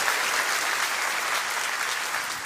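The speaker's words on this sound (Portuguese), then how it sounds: "Pode dar uma salva de palmas ao Senhor." A church congregation claps together in steady, dense applause that fills the whole moment without a break, with no voices rising above it.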